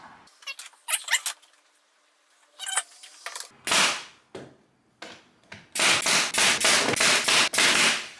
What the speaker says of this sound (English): when you shoot a brad in, it can turn upward, it can turn downward